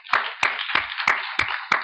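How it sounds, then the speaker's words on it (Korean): A church congregation claps in unison during a Sunday afternoon service, giving six loud, evenly spaced group claps about a third of a second apart, close and alone. "주님 감사 박수드리겠습니다"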